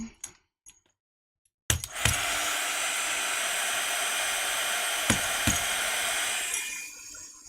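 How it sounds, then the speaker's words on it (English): A heat gun blows hot air over a layered mixed media craft tag, a steady loud roaring hiss that starts abruptly after a few quiet taps and runs for several seconds with occasional clicks before tapering off. "I'm gonna do heat gun real quick"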